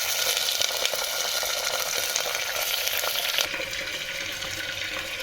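Sliced onions frying in a cooking pan, a loud dense sizzle and crackle close by, steady throughout with a slight drop in intensity partway, no talking.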